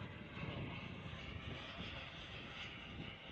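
A Boomerang Ranger RC model airplane makes a high-speed pass, giving a faint, steady whining engine buzz from a distance with a slight swell, and no voices.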